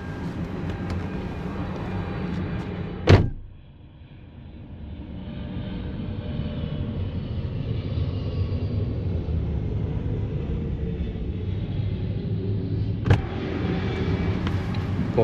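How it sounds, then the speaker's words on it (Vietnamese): A large EVA Air airliner that has just landed produces a steady, broad engine roar. Two sharp knocks break the roar, about ten seconds apart, and no one speaks. "Cái chiếc máy bay này quá bự luôn. Dạ, chiếc hãng của Eva mới vừa đáp."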